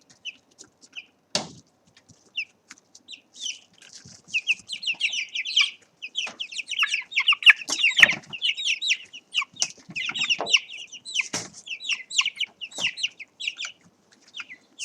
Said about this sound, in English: They are starting to cluck instead of cheep. So they are making that sort of squawking noise.